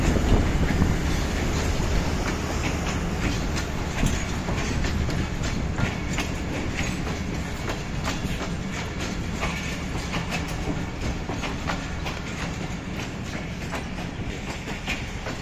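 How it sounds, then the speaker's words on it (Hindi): Pakistan Railways' Allama Iqbal passenger train, a long Karachi-bound consist with many coaches, rumbles steadily along the rails with continuous clickety-clack wheel noise and wind, loud and close throughout. "अल्लामा इकबाल ट्रेन चूँकि ये कराची तक जाती है इसलिए इसके साथ काफ़ी ज़्यादा डिब्बे होते हैं"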